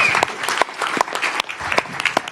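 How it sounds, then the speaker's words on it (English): Applause from an audience at a mixed martial arts press conference, dense steady clapping from many hands sustained throughout, fairly loud and close with no talk over it. "Can we give a round of applause for Belal?"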